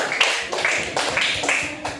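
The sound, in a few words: applause for group 3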